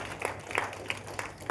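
Scattered hand claps from a small audience at a hotel event in Pekanbaru, a few distinct claps at a moderate distance, fairly faint and brief.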